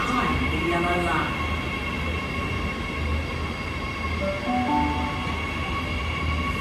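A train runs through platform 21 at a station without stopping, giving a loud continuous rumble with faint squeals over it while a recorded announcement plays.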